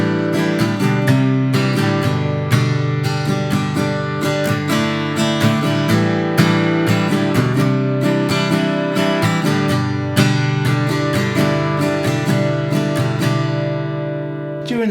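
An acoustic guitar strums the chorus chords of a song in a steady, driving up-and-down rhythm, full and close, with no talking.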